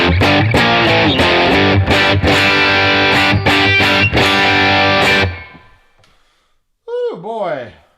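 A loud, crunchy overdriven black-face guitar amp plays thick distorted chords for about five seconds, bass turned well down, then rings out into silence before a brief bent-note phrase.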